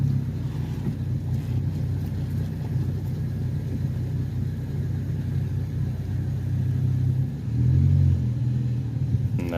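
A manual transmission car engine drones steadily from inside the cabin, a low continuous rumble that swells briefly near the end as revs rise during a downshift, with no talking.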